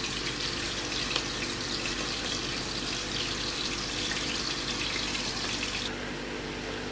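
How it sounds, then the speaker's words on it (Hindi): Koftas (meatballs) frying in oil in a pan over full gas flame, a dense continuous sizzle that stays loud and even, softening slightly near the end. "कोफ्ते आप देख रहे हैं मैं पूरी गैस पे फ्राई कर रही हूँ।"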